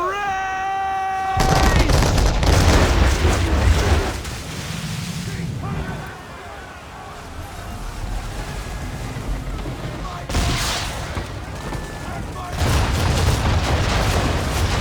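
Cannon fire from an English frigate in the video game Assassin's Creed 3 booms out in several heavy volleys separated by quieter stretches, mixed with game voices and ambient noise.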